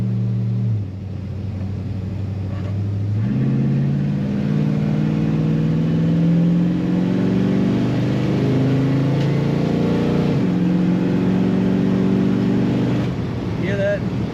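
A 1955 Chevrolet two-door sedan with an automatic transmission. Its engine idles low, then revs up in a few stepped throttle blips and settles back. The engine is close and fairly loud, with a voice talking over it.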